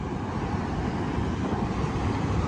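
Steady roar of ocean surf washing continuously on the beach at Pangandaran, Indonesia, a broad rushing noise with no distinct breaks, heard alone with some wind.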